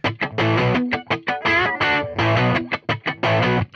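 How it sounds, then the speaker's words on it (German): A distorted electric guitar plays a dry solo track without reverb, with rhythmic chugging chords and short gaps between them, loud and close. "Ich lasse die Gitarre einfach mal solo laufen."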